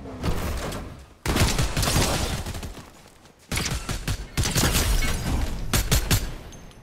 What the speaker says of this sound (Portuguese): Tô atirando demais já.